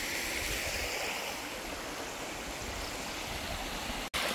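Steady rushing water from a flowing stream beside a riverside lot in Inabanga, Bohol, a continuous broadband wash that stays even throughout, close and fairly loud, with a momentary dropout near the end.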